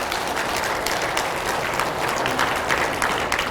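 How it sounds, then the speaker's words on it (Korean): A church congregation at a prayer and healing retreat applauding, a continuous dense clatter of many hands filling the room at a steady moderate level from start to finish. "우리 박수 한번 쳐드립시다."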